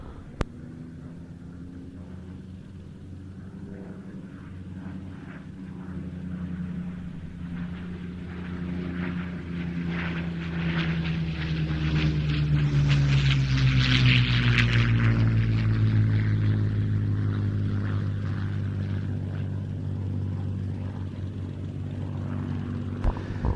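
A P-40F fighter making its final pass at an IWM Duxford flying day, its piston engine and propeller drone building from a distance to a loud fly-by with a falling Doppler pitch, then fading away.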